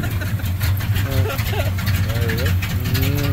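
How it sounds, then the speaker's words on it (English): A 1984 Dodge Ram D150 pickup truck engine idles very low with a steady rumble up close while a person speaks over it. "Well, very low idle here."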